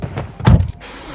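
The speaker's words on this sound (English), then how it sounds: "Okay, yeah, it's still a Skoda diesel." A Skoda Octavia vRS diesel car, heard briefly and close by: a short low engine rumble with a mechanical clunk, lasting just over a second.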